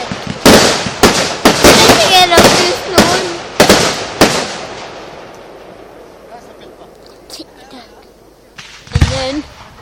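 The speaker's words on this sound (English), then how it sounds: "fireworks." A rapid series of loud, sharp firework explosions crackles close by, bursts coming about every half second before fading into a lingering rumble, then one more bang near the end, with voices heard faintly between them.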